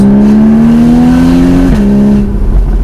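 A Porsche Boxster 981 GTS with the sports exhaust idles with a deep, steady drone, rising slightly in pitch before a quick blip and settling, close and loud with no talk.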